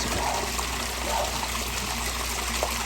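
Soft, steady trickle of water spilling down a backyard koi pond waterfall over rocks, continuous and fairly faint with gentle splashing.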